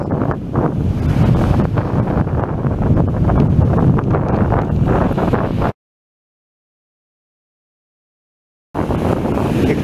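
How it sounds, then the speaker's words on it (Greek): Strong northeast wind buffets the microphone at night on a bay in Sykia, Halkidiki, with waves surging underneath; a loud, steady roar that cuts out for about three seconds, then returns. "Νυχτερινός περίπατος και ο γρέγος βορειοανατολικός καλά κρατεί. Και απέναντί μας βλέπουμε τον Άθωνα, και κύματα μπόλικα ανεβαίνουν μέχρι επάνω"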